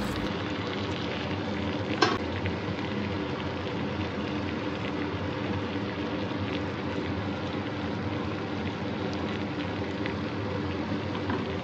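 Shrimp and pointed gourd fry in oil in a pan with a steady, close crackling sizzle that runs throughout, broken by a brief utensil scrape or stir near the start; no one speaks.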